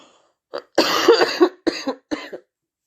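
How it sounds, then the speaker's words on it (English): A series of rough, harsh coughs close to the microphone, several bursts in quick succession with short gaps between them. "Excuse me for coughing."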